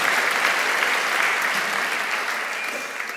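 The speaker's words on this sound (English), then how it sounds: "So give yourself a round of applause." Audience applause rises at a public dialogue event, a dense, sustained clapping from a full hall that tapers slowly toward the end.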